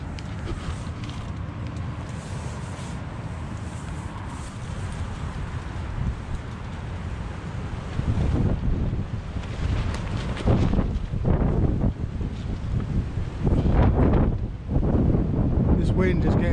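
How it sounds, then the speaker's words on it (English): Strong wind buffets and flaps the canvas of an 8-man tipi hot tent, a continuous loud roar that swells into heavier gusts and rattling in the second half, with muffled talk mixed in. "This wind is getting up too strong for me, I think."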